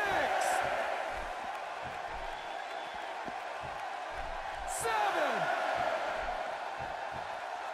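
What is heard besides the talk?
crowd cheering at a wrestling match, from the video game WWE 2K16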